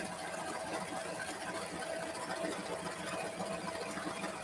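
A sewing machine runs steadily through a seam in avocado-patterned fabric, giving a continuous low mechanical hum and whir at moderate loudness with no pauses.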